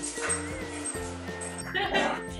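A corgi gives short, rough growls and yips while playing with toys indoors, close and fairly soft, with someone talking over much of it.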